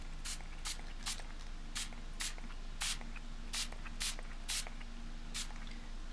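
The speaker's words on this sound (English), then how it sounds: "let's see if we can get this one to spray now." A spray bottle mists liquid onto a purple mixed media background in about a dozen short, crisp hissing bursts at irregular intervals over a faint steady room hum, with no talk.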